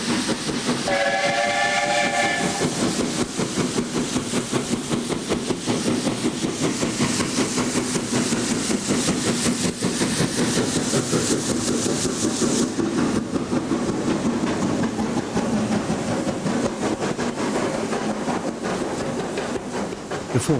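A steam train on the line to Pickering in North East England rumbles and chuffs steadily along the track while its whistle sounds briefly near the start, the clatter continuing for the whole stretch.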